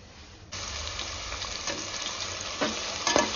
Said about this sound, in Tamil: அடுத்ததா வந்து ஆனியன் வந்து நம்ம தாளிக்க போறோம்.